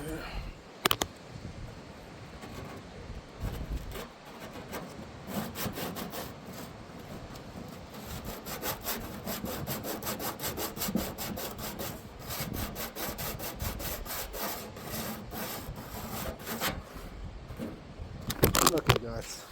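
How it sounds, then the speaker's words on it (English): Hand sanding scrapes steadily against wood in quick, rough back-and-forth strokes, close up and continuous for nearly twenty seconds. "So I had to get two hands to sand that really good"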